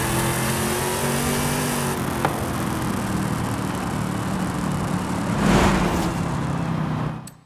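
Loud, sustained engine drone from a 1,000-horsepower Camaro drag tune in the Forza Horizon 5 racing game, steady with slight pitch shifts and a brief surge near the end before cutting off.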